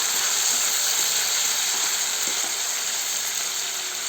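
Cluster beans (gorchikkudu) sizzle in a hot pan while being stirred, a steady, close, dense hiss that holds evenly throughout with faint scraping clicks from the mixing.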